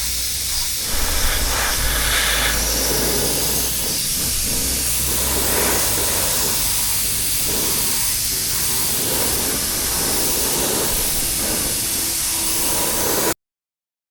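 An automotive spray gun lays clear coat onto a car panel during a blend repair, a steady close hiss of air and paint running almost unbroken for many seconds before stopping abruptly.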